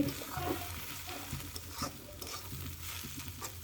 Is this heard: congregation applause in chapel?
no